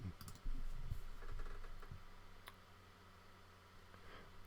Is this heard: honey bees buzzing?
no